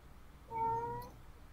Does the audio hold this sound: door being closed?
no